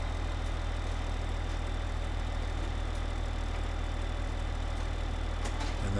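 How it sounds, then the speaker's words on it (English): Tractor engine in Farming Simulator 15 pulling a big trailer up a steep hill, a constant labored low drone with steady rumble throughout, loud and close, with a slight change in pitch near the end. "this tractor is struggling with this big trailer going up a big hill here."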